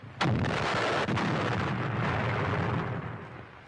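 A single loud WW2 sniper rifle gunshot cracks sharply at the start and is followed by a long, rumbling echo that fades slowly, with no speech.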